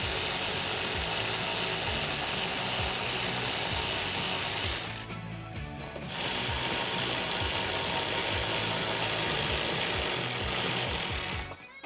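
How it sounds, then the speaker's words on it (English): A ratchet with a 10mm socket tightens bolts on a Toyota Tacoma headlight install, giving a long run of rapid, close clicking with a short pause partway through before the clicking resumes. "Then we can put our bolts up top and tighten those up with a 10mm socket."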